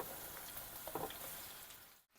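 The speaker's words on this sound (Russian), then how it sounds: "отправляю лучочек, ребята, на сковородочку. И обжариваю." Chopped onion fries steadily in a pan, a soft continuous sizzle with faint stirring crackles, alone and fairly quiet, cutting off abruptly near the end.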